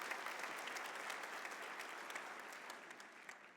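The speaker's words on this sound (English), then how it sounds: "So just a really quick round of applause for yourselves for all of that." An audience at the 2016 FIRST Championship Dean's List luncheon claps steadily, a dense, even patter of many hands that holds for several seconds and fades slightly toward the end, heard from some distance.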